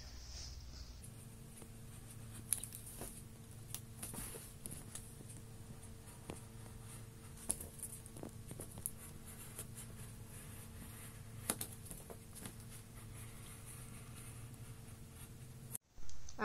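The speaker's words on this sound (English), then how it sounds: "you are scoring the cintra and making a line for it, so it's easier for you to go back and cut deeper" A blade scratches repeatedly across a Sintra plastic sheet being scored for armor, a steady faint scraping with sharp ticks scattered throughout, ending in a brief clunk.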